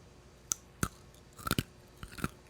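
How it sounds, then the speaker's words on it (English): Crunchy snack bitten and chewed close to a podcast microphone, with a handful of sharp crisp crunches spread unevenly over a couple of seconds against a quiet room. "I start chewing the other one"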